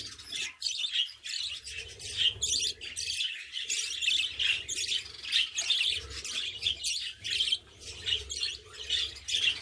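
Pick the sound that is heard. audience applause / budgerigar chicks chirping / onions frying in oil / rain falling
budgerigar chicks chirping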